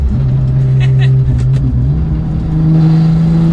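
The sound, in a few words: Porsche 911 GT2 manual engine revving while driving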